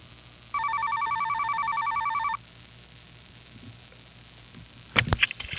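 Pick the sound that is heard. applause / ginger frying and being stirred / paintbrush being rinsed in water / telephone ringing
telephone ringing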